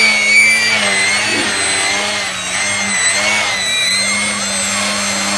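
An E-flite Eratix FF electric RC 3D airplane in flight, a loud steady electric-motor whine and prop buzz with shifting pitch as the throttle varies, close and continuous.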